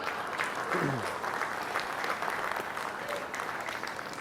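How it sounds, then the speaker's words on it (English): Spectators at a sheep show applaud the heavyweight market wether exhibitors, a steady crowd clapping throughout with a faint voice briefly heard beneath it. "If we could all give them a round of applause here."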